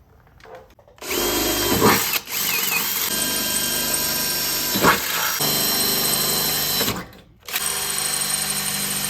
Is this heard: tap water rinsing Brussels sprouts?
no